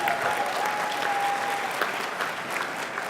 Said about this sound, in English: Let's give a round of applause for Mayor Rawlings.